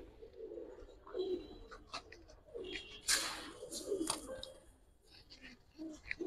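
Giribaz pigeons coo softly nearby in a series of low, short calls, with faint rustling and a few sharp clicks between them.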